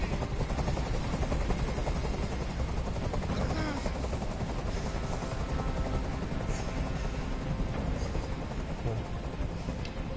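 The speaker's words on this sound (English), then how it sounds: "Tell that helicopter to get out." Helicopter in the video game Detroit: Become Human, a constant, loud rotor drone filling the whole stretch and heavy in the low end, with voices talking over it at times.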